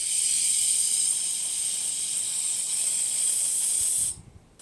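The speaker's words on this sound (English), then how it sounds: "I'm just going to spray this down." A steady, loud hiss of aerosol brake cleaner spraying close by onto a C4 transmission for about four seconds, then cutting off abruptly.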